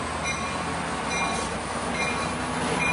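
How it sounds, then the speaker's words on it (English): A steady, loud rumble of a northbound Amtrak Surfliner passenger train at Oceanside Transit Center, with rolling wheel noise and faint squeals, continuous throughout. "Here comes the northbound surf liner"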